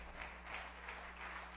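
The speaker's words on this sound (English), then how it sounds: "way to clap it up for them," Audience at a 2019 trends conference claps in a short, fairly quiet burst of applause, a steady wash of many hands heard from a distance under a low background hum.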